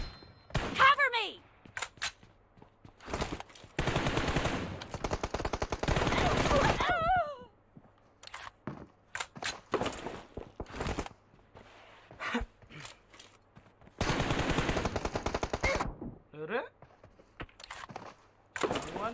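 Gunfire from a team deathmatch round in an online shooter video game, with repeated bursts of automatic fire lasting a few seconds each, spaced between quieter stretches, while players talk over the action.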